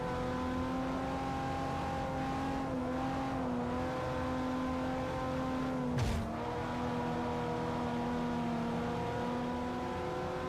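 Race car engine in a Forza racing game, a steady droning hum held at constant pitch throughout, with a brief dip and sharp transient partway through.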